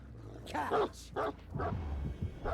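The Houndmaster's dog in Dead by Daylight gives a few short yapping barks and whimpers in quick succession, close and moderately loud, alongside game sounds.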